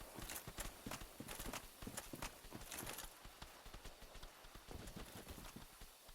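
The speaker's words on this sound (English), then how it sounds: "I just heard footsteps everywhere" Footsteps in the video game Dark Souls, a steady run of hard clopping steps that fills the scene continuously without speech.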